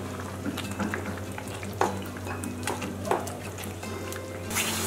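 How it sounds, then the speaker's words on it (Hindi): Mango kalakand mixture being stirred in a pan, with steady soft bubbling and a few scraping strokes of a spoon, close and moderate, with no one talking. "और अच्छे से मिक्स कर लेंगे।"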